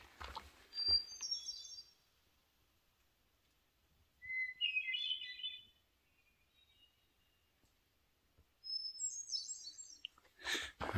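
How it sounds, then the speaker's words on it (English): A songbird on the Mt Chocorua trail gives three short, bright trilling phrases several seconds apart, fairly distant against a quiet mountain backdrop, with faint footsteps or rustling at the start and end. "I've always loved the sound of this bird."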